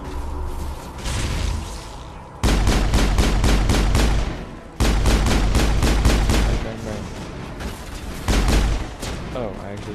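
Rapid, loud pistol gunfire in the Mass Effect video game, shots cracking in quick repeated bursts with short pauses between volleys, sharp and close.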